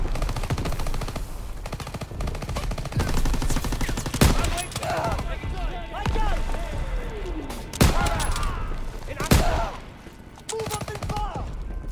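Rapid machine-gun bursts from the player's weapon in a Call of Duty beach assault, loud and close, with sharp single cracks among them, over battlefield noise and shouted voices.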